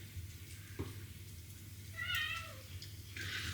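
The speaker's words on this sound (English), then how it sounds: "I heard the meow of our cat. She must be hungry." A cat meows once in a short rising and falling call, with a fainter chirp before it, over a low steady hum in a quiet room.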